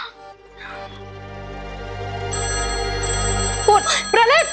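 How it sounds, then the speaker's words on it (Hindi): A landline telephone ringing indoors in a home, with harmonic ring tones near the end, over a sustained low hum and a voice speaking. "फोन प्रलय, रुक जा मैं उठाती हूँ।"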